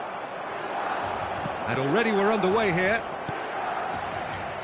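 A stadium crowd buzzes at the San Siro in the PES football game, a broad steady roar running through the whole stretch while a commentator talks over it near the middle.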